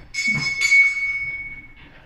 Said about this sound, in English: There's the bell for the playground.